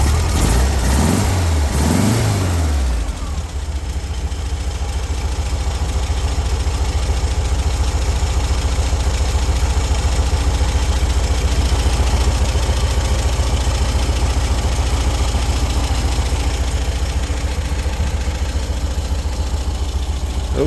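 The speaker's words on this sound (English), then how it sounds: "Boy, they sure sound good, don't they? Horizontally opposed engine." An air-cooled VW 1600 cc horizontally opposed engine idles after a cold start from six months of sitting, opening with a few uneven revs and then settling into a steady, loud, close-up idle that runs on unbroken.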